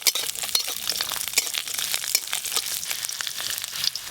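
Ginger, garlic and whole spices fry in hot oil in a pan with dried red chillies for a village-style boal fish curry. A dense, crackling sizzle comes up close, with occasional clinks from stirring.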